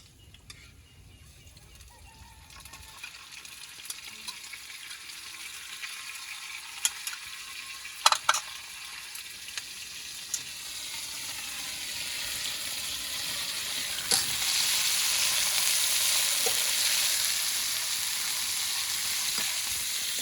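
Meat sizzling with sliced onions in a hot pan while noodles are being cooked at home; quiet at first, the frying hiss builds to a steady, fairly loud crackle with a few sharp pops partway through, and no talking.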